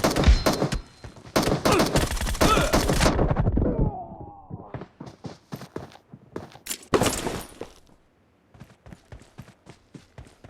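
Rapid bursts of gunfire in the mobile battle-royale game PUBG Mobile, loud volleys in the opening seconds, then a lull and scattered single shots and short strings of shots spaced apart.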